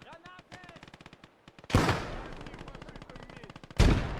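Rapid machine gun bursts from an MG in Gates of Hell: Ostfront, a fast regular rattle of close shots throughout, with two loud heavy blasts standing out partway through and near the end.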